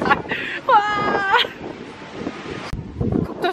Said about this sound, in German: Guckt euch mal an, wie unglaublich windig es ist.